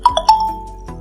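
A phone's text message alert plays as two short bright chimes in quick succession, the second ringing out briefly before fading, close and clear in a quiet room.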